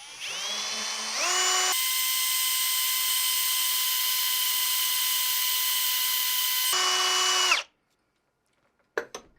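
A high-pitched power drill whines steadily for several seconds boring a pilot hole in catlinite pipestone, its pitch rising as it spins up, then cuts off abruptly, followed by a faint clatter.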